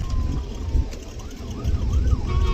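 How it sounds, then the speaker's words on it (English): An ambulance siren wails in short rising and falling sweeps, moderately distant and brief, over a low rumble of traffic. "Ambulance, ambulance."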